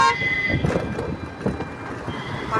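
A loud, steady rumble of a train rolling past, with clattering noise that fills the whole stretch.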